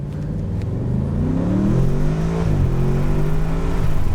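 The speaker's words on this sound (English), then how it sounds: "Let me accelerate from 0 to 110 to 0 again, just to show you what that means with this car" A 2023 Audi S8 pulls hard from a stop in first gear, its engine note rising steadily and loudly in pitch with a brief dip around a shift, heard from inside the cabin.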